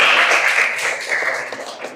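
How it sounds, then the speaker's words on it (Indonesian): A classroom group gives a short round of applause for the first student group, a dense, steady patter of many hands clapping close by that fades slightly toward the end. "Kita beri tepuk tangan untuk kelompok 1."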